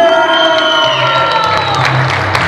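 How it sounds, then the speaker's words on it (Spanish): At a mariachi birthday serenade, a small crowd cheers and whoops while clapping, the shouts bright and lively over a short, continuous stretch. "Miren, el aplauso para Katherine, que se escuche."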